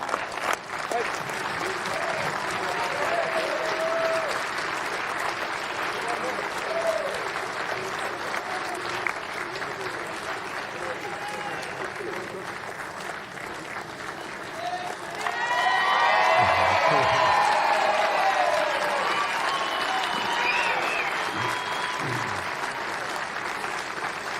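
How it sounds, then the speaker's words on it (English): A large crowd applauds steadily for the silver medalists, Canada, at the closing ceremony of the 2022 Men's Softball World Cup, with a swell of louder clapping and cheering midway and a voice talking over the applause. "Big round of applause and congratulations to Canada"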